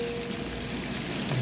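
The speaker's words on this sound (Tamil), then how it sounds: "அப்பதான் வெங்காயம் நல்லா வதங்கட்டும்." Onions sauté in a pan on a makeshift wood-fired setup while biryani is cooked, giving a steady close crackling sizzle throughout the short stretch, with no talk.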